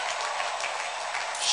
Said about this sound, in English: Stand up and clap your hands to God